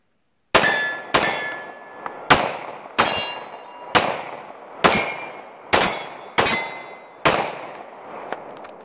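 A Glock 22 police trade-in pistol fires about nine evenly spaced shots at steel targets, each crack followed by a ringing metallic clang, loud and close with a short decay between shots.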